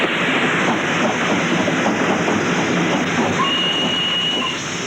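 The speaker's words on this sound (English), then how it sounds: "The morning train for the continent pulled out, heading east towards Harwich." A morning passenger train leaves Liverpool Street Station in London heading east, a loud continuous rumble of railcars with rhythmic wheel clatter and a thin high squeal near the end.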